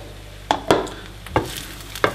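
A spoon stirs bulgur with peppers in a cooking pot, giving four short, close scraping knocks at uneven intervals over a faint background simmer.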